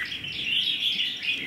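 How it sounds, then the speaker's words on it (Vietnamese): A red-whiskered bulbul from Laos sings up close, a bright, loud run of rapid chirps and warbling notes, steady and unbroken, with no other sounds. "Thì hôm nay em lên cho anh em bốn chú chim Lào anh em nhé."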